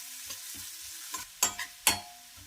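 Chopped onion with turmeric frying in a pan, stirred with a few scraping strokes and soft sizzling, alone with no talk.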